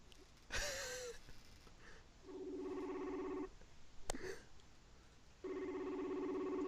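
A telephone ringback tone sounds while calling someone named Chavo, two long steady buzzing rings separated by a pause, fairly faint, with brief breathy noises between them.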